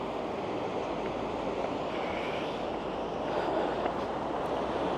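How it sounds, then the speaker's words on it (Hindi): A mountain stream in Darband, Tehran, rushing downhill, a steady, loud broadband wash of flowing water with no break, heard up close without talk. "पहाड़ों के ऊपर से जो पानी मैंने दिखाया था आपको, वो आता हुआ नीचे की तरफ जा रहा है।"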